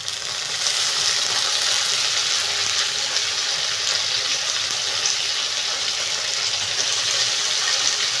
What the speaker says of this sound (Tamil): நம்ம பொரிக்கிறதுக்கு சுண்டைக்காயை அப்படியே பொரிக்கலாம்